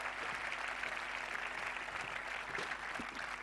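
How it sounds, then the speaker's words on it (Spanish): Applause from an audience at a sports awards ceremony, a sustained wash of many hands clapping, fairly distant and even, with a faint hum beneath and occasional closer claps standing out. "Pues fuerte el aplauso para ellos, para ellas"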